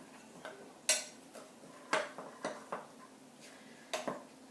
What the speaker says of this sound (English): I'm just going to stir this around just for good measure